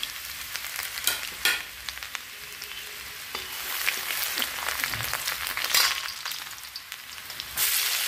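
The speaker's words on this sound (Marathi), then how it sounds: "आपण तेल ठेवलं आहे कढईत. आता मी गार्लिक टाकलं आहे" Ginger and garlic frying in hot oil in a kadhai for chili paneer, a steady bright sizzle with scattered clinks and scrapes of stirring, close and alone without talk.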